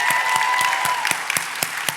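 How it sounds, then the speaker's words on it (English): Members of an audience at a national member meeting clapping together, a short burst of brisk, evenly spaced claps from a modest crowd close by. "yes, clap for that."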